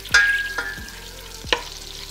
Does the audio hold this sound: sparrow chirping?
no